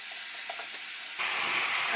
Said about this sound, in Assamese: আৰু আলু আৰু মাংস ভালদৰে ফ্ৰাই হ'বৰ বাবে অলপ সময় এনেদৰে ফ্ৰাই কৰি থাকিম।